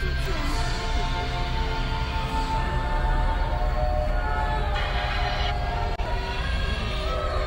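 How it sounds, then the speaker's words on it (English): A toy-style train ride rumbling past nearby at a drive-thru Halloween jack-o'-lantern event, a loud continuous roar of wheels and engine with a faint horn-like tone, steady for several seconds. "Amira, a scary choo-choo train?"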